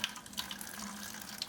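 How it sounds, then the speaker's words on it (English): Water from a treadle pump washing station runs and splashes gently into a basin, a soft continuous trickle with a few brighter spatters, quiet and close. "just the light action on the treadle will give us the flow that we need."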